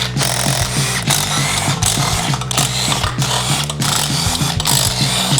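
Power tools whir and ratchet in short repeated bursts while headers come off a 1978 Honda motorcycle during a 600cc engine swap, a steady mechanical buzz broken by regular pulses up close.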